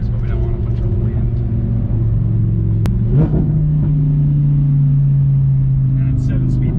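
A 2015 Audi R8 V10 with a 7-speed dual-clutch gearbox, driven with the windows cracked, gives a steady low engine drone. A quick gear change comes midway before the hum settles at a slightly higher pitch, with faint voices at times.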